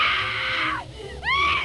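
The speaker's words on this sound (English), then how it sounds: "That blood-curdling scream." A loud, shrill scream from the 1995 PC horror game The 11th Hour, a sustained high cry that breaks off, then a second rising wail, heard alone.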